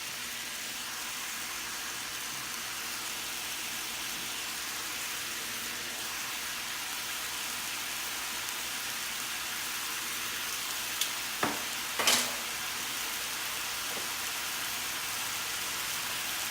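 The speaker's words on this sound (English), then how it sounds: "we have our meat in the skillet" Ground meat fries in a skillet with a steady, broad sizzle that holds evenly throughout, joined near the end by a few sharp clinks and scrapes of a utensil, with no talking.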